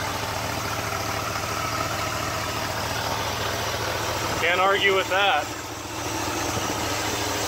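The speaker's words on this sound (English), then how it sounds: "Nice low idle, probably 500 RPM." A Ford FE V8, either a 360 or 390, idles smoothly at a low speed around 500 RPM with a steady, even mid-pitched rumble close by. Someone speaks briefly partway through.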